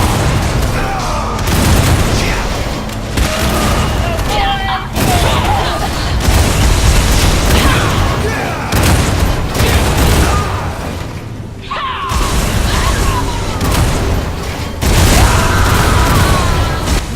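A Bombard spell from War for the Overworld pounds a target with a long, dense barrage of booming explosions and thuds, loud and continuous with short lulls between volleys.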